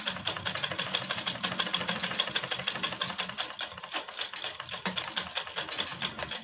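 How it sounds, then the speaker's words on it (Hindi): Sewing machine stitching a baby girl's hanky-cut frock, a close, steady whirring run with fast regular needle beats throughout and no talk. "वो सिलाई अब हम लगा रहे हैं।"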